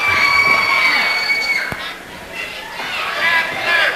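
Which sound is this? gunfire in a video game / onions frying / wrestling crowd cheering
wrestling crowd cheering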